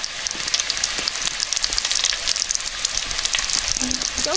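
A burger patty fries on a griddle at a burger stall in a Roblox game, giving a steady, close sizzle and crackle throughout with a brief higher tone near the end.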